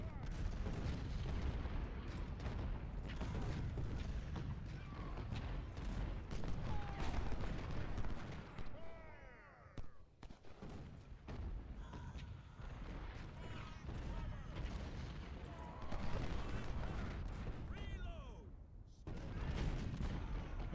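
Musket volleys and cannon fire crackle and thud continuously in the Civil War strategy game Ultimate General: Civil War at the Battle of Chickamauga, a dense, steady battle din with scattered sharp reports throughout.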